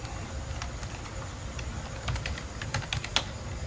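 Fingers tap quickly on a computer keyboard, close and clear, with a brief flurry of keystrokes over faint room noise.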